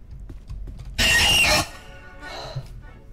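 A sudden, piercing shriek of the Screech monster in the Roblox horror game Doors, loud and harsh for about half a second and then cutting off, with quieter game ambience before and after.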